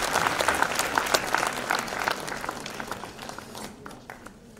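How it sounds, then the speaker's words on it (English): An audience gives a big round of applause as Sonali Bendre is welcomed onto a stage at a cancer-care event. The clapping is loud and dense, then thins and fades toward the end. "A big round of applause, please."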